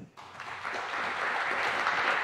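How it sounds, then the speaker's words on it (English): An audience applauds to welcome a speaker onto the stage at a talk on audio networks and security, the clapping swelling in after a brief quiet start and holding as a steady, dense wash of many hands. "please welcome with a very warm round of applause"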